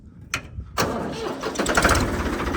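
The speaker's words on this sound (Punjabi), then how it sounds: "ਆਵਾਜ਼ ਬਹੁਤ ਸੋਹਣੀ ਆ ਸਟਾਰਟਿੰਗ ਬਹੁਤ ਸੋਹਣੀ ਆ ਟਰੈਕਟਰ ਦੀ" A Ford 3600 tractor cranks with a short starter click, then its diesel engine catches and settles into a loud, close, steady running rumble.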